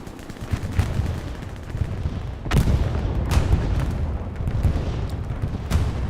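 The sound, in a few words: Katyusha rocket artillery in the video game Hell Let Loose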